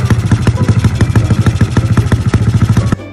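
A Yamaha Mio scooter idles close up through a quiet exhaust silencer, putting out a steady, rhythmic putter of even pulses that stops abruptly near the end.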